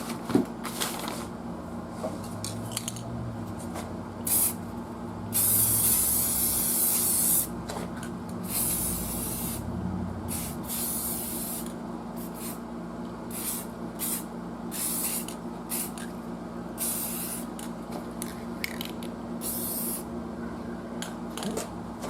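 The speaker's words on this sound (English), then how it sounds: "I'm going to go ahead and spray this to make it look a little better." Repeated hissing bursts of an aerosol spray can, some short and some long, close up, with rattling and handling noises between sprays, spraying an old Fada radio during restoration.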